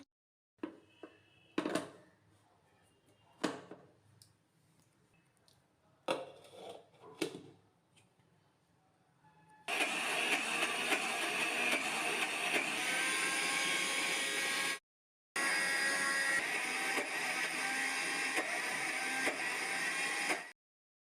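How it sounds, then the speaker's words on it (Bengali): A mixer grinder with a large jar grinds soaked dal into paste, starting with a few short bursts and then running as a loud, steady whir that pauses briefly before continuing. "এবার আমি ডালটাকে পেস্ট করে নেব আর যাতে একবারে পেস্ট হয় একটা বড় জারেই আমি নিয়েছি"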